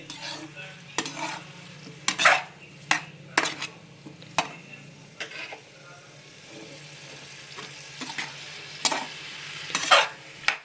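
Repeated scraping stirs of a utensil in a pan, sharp clinks at irregular intervals over a soft sizzle of mixed vegetables roasting, close by.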